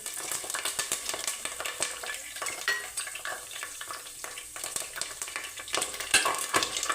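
Curry leaves and green chilies spit and crackle in hot oil, a dense, busy sizzle full of sharp pops, with occasional light clinks of a utensil against the pan.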